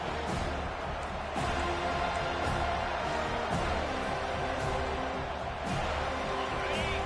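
A stadium crowd cheers in an NCAA football video game, a dense, steady roar of many voices with scattered thuds and claps rising through it.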